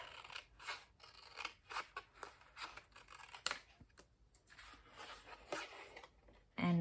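Scissors snip paper while a gift box is made, giving a quick, irregular run of close, crisp cuts at low level with faint handling noise between them.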